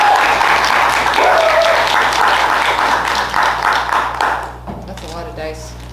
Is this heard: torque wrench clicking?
no